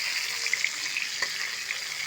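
Eggplant pieces for vankaya masala curry fry in oil, making a steady close hiss with a few small pops and crackles on top. The short stretch has no talking.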